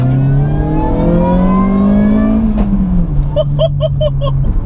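A modified 216 bhp supercharged Ford Focus engine pulls hard while driving, its loud droning pitch climbing steadily and then dropping away, heard close from inside the car.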